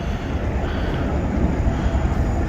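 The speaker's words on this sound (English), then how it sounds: "It's a big old plane coming in." A large airplane flying in to land, heard as a loud, steady broadband engine roar filling the whole stretch without letup, with no speech over it.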